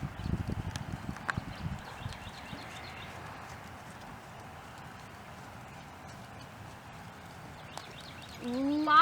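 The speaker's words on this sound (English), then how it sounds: "Whenever you're ready, please pick up your canter." A horse canters during an intermediate riding lesson, with rhythmic hoofbeats on the arena footing, clearest at the start and fading into the distance. A voice speaks briefly near the end.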